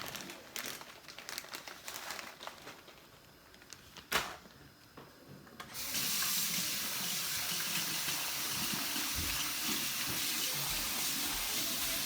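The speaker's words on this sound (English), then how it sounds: "so I'm gonna rinse some more rice off." Rice rinsing under a running kitchen tap, with crinkling and handling sounds first, then the water stream turning on and flowing steadily and loudly for the second half, close by.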